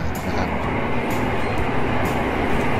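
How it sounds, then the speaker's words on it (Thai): A train pulls into a station platform in Japan, a steady broadband rumble and rush of wheels and air at close range, holding loud and even throughout. "รถไฟของเรามาแล้ว"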